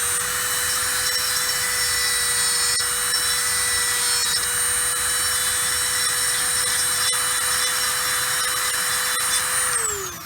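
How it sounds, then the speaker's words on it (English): A rotary tool fitted with a large burr grinds and evens out a replica skeleton bone, giving a steady high-pitched motor whine with a rough abrasive rasp that runs unbroken and loud, then winds down at the end. "The really big burrs are better for evening it out."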